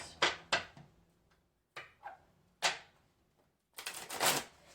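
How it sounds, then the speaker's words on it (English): Tarot cards are shuffled in several short bursts of riffling and slapping, close and fairly quiet, separated by brief pauses with a longer flurry at the end. "Sorry, I have to shuffle."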